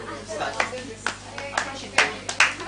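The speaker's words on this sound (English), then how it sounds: "Clap, clap, clap, clap." A handful of separate claps in a slow, even beat from a group in a classroom setting, with voices talking underneath.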